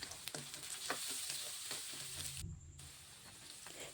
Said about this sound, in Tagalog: Igigisa lang natin yung ating sibuyas, yung ating bawang,